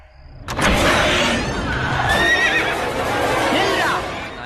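A horse gives a loud, drawn-out neigh that rises and trails off over several seconds, with clattering and a short murmur of voices around it.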